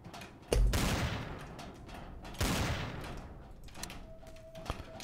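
Gunfire in the shooter game Trouble in Terrorist Town: two loud bursts of shots, one early and one mid-clip, each decaying into a noisy tail, followed by quieter thuds and a brief tone near the end.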